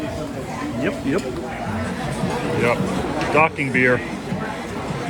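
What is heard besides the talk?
crowd chatter at a resort pool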